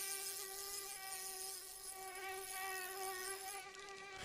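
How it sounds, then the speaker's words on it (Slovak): A mosquito in the video game My Summer Car buzzes close and steady, a thin, high, continuous whine with a constant pitch that hovers without pause and with no talking. "Lebo ten komár ju vystrašil."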